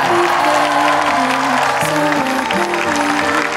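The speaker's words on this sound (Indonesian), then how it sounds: "Sekali lagi kita beri tepuk tangan untuk Brevi Dancer." An audience at an Indonesia's Got Talent 2023 audition applauds a dance act, a dense patter of clapping mixed with music playing loudly underneath for several seconds.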